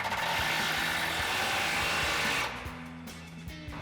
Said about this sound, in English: we've got our 27mm socket on our impact, and we've got our flag nut